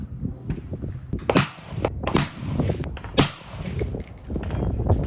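Rifle shots with Precision Hunter 103 ELD-X hunting bullets on an outdoor range, three sharp cracks about a second apart over steady wind-like noise, fairly loud and with no talk.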